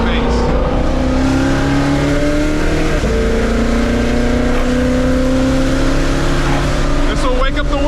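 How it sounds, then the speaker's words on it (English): A supercharged 5.2 liter V8 car pulls hard under acceleration, its engine roar rising steadily with a climbing blower whine on top, loud and close, with a voice talking over it. "the blower whine is just right there in your face"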